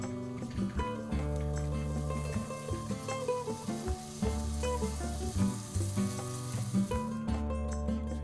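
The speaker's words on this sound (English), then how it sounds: "just used our griddle, and we buttered both sides of our roll, gave it a nice toast" Buttered rolls toast on a hot griddle for shrimp rolls, a steady close sizzle with clinks and scraping bursts as they are moved around, no talk.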